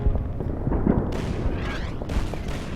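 Artillery fire in the wargame Order of Battle: Winter War, a fairly loud cluster of rumbling booms and crackling impacts that rolls along for under three seconds.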